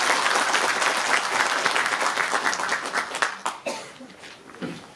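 Loud hall applause at a book concert event, dense clapping that gradually thins and tapers off into a few scattered final claps and faint murmurs.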